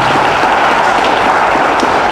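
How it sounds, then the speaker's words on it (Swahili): Large rally crowd clapping in a dense, continuous wash of applause, loud and steady throughout with no pauses or talk standing out. "Pigieni baba makofi."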